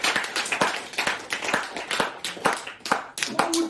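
A church congregation claps together in a steady run of sharp, close hand claps, with voices mixed into the sound.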